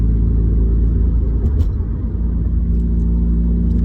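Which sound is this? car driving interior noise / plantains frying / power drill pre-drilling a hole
car driving interior noise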